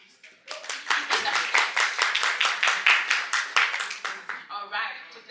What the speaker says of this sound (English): So clap for Kenya now